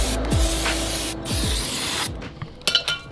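An aerosol spray can hisses in several sharp bursts onto car brake parts during a Mazdaspeed3 brake job in a garage, close and loud, with short pauses and small clicks between sprays.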